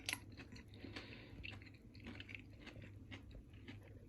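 Someone chews steaming-hot, crunchy roasted Brussels sprouts: soft, faint crunches and wet squishing, close up and repeated irregularly, with no talking.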